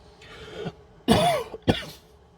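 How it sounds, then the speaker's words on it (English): Two sharp, close coughs in quick succession follow a soft breath, each a short harsh burst from nearby. "I was supposed to blow on it, but it turned into a cough instead"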